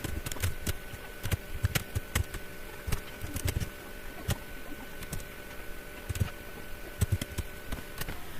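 Fingers type a prompt on a computer keyboard, producing close, irregular bursts of crisp key clicks and taps, some in quick runs and others spaced apart, with no voices.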